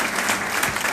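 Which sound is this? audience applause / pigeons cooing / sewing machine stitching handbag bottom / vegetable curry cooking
audience applause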